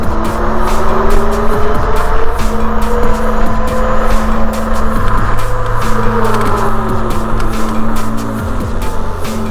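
A Zero 11X electric motorcycle accelerates hard from a start, its motor whine rising and shifting in pitch over loud, steady wind rush and buffeting, with no speech.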